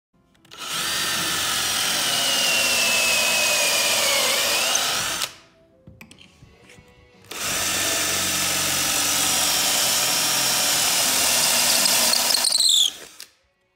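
A power drill driving screws into pocket holes on the back of a cabinet face frame gives two loud, sustained whirring runs of about five seconds each, with a short quiet pause between them, alone with no talk.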